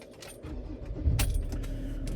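Ford Ranger 3.2 TDCi diesel starting with the key, a jingle of keys followed by the engine cranking and catching into a low rumble near the midpoint, settling into a close idle.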